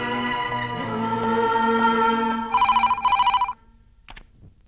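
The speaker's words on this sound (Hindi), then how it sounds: "सर आपके लिए फोन है बॉम्बे टाइम्स के ऑफिस से" A telephone rings loudly and close, first a sustained electronic tone, then two rapid trilling bursts of the bell, and it stops abruptly before a short faint click.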